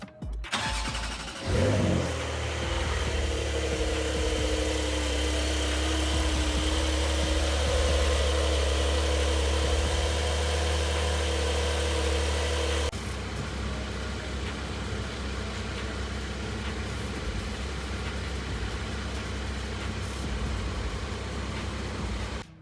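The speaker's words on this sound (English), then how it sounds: "Now we're gonna start the car and let it get up to the operating temperature" A Porsche 992 911 Carrera S starts up with a loud, close burst as the engine catches, then settles into a steady, even idle that runs alone, slightly quieter, for the rest of the stretch.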